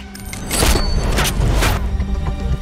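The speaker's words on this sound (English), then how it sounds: "Aim it and pull the trigger." Heavy booming gunfire from the Tenet trailer plays inside the Fortnite video game, with several deep, loud blasts close together in quick succession.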